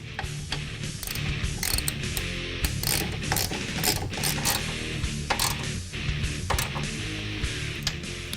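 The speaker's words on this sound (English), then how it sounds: "now we're going to tighten the outer two nuts for the strut mounts" A ratchet wrench tightens the outer strut mount nuts on a 2011-2014 Ford Mustang during a coil spring install, giving quick, continuous clicking close by with no talk.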